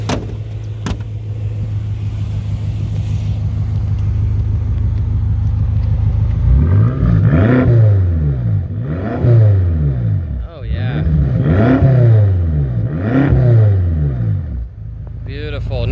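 2013 BMW M5 engine idling deeply, then revved in four repeated rising-and-falling throttle blips through the exhaust, loud and close, with a voice speaking over the start.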